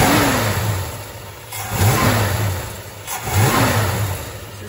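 A 1968 Dodge Charger's 383 big block V8 runs up close, rising and falling in three slow, labored revs over a steady rumble, with no talking.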